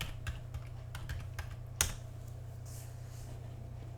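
Computer keyboard typing a search term for insurance, a quiet run of light key clicks with one sharper tap, continuing faintly over a steady low hum.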